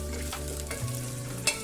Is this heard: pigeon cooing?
no